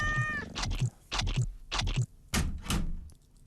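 A cat meows close by, several short, insistent calls in an uneven series with brief pauses between them, alongside a few dull knocks and no talking.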